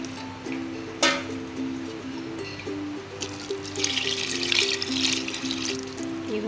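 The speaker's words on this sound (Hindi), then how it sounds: "ऊपर से पानी डाल देंगे।" Water trickles and pours steadily into a pot of beef yakhni pulao, a continuous liquid splash that swells louder toward the end, with a low hum and faint tonal background sound beneath.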